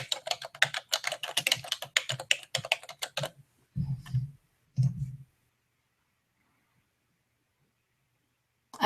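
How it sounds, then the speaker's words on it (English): Rapid clicking of a computer keyboard being typed on for about three seconds, followed by two short bursts of keys a moment later, then silence. "let me make sure that I can type information technology"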